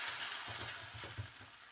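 A paratha fries in butter oil on a pan, giving a soft, continuous sizzle with faint, low stirring or shifting sounds throughout.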